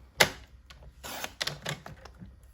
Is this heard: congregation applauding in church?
no